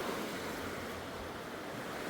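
Groundwater seeps and flows into a stream in a reserve, giving a steady, soft broadband rush of water that holds evenly throughout with no voices.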